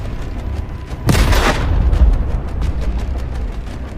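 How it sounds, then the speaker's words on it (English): A massive explosion tears through a convoy of military vehicles, a sudden loud boom that hits about a second in, then a long rolling rumble that slowly fades. "A massive explosion."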